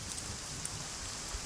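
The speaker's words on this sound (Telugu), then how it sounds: "వర్షం ఇప్పుడప్పుడు తగ్గేటట్లేదు." Steady rain falls outside a room during a heavy downpour. A faint, continuous hiss runs for a second and a half with no distinct drops or pauses, and there is no talk over it.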